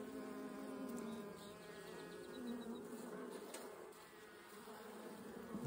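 A steady swarm of bees buzzing continuously up close around their nest, a dense droning hum with individual wingbeats flickering through.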